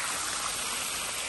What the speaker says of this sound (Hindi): ऊपर से पानी आ रहा है।